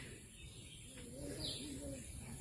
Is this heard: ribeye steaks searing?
no